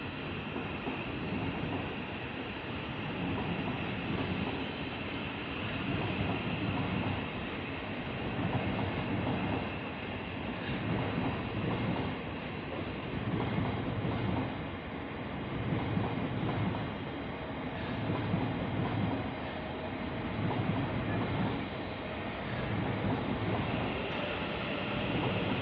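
A Thameslink train rolls steadily past at London Bridge station, giving a continuous broad rumble with rhythmic wheel clatter over the joints; no talking.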